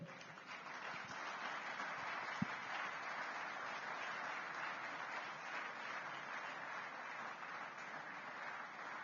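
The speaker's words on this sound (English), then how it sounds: "Please welcome with a round of applause" An audience at a governance and democracy forum applauds a speaker being welcomed, a soft, even wash of clapping that stays steady throughout and sounds somewhat distant.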